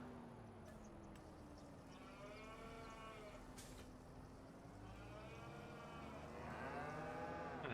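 Cattle moo repeatedly in Farming Simulator 25 on an Irish farm. Several long, low calls overlap at a middling distance over a steady ambient background, and nobody talks.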